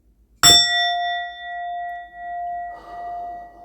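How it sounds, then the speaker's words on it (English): A single bell struck once, a bright clang that rings on as a long pure sustained tone, slowly fading and swelling with faint background noise near the end. "I'm going to ring this bell again."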